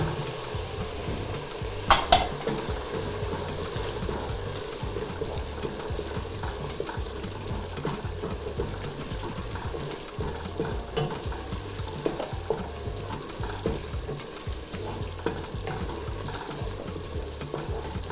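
Blended shrimp stirred into bubbling egusi soup in a pot, with continuous frying sizzle, repeated stirring scrapes and occasional spoon clinks against the pot, a couple of sharper knocks early on.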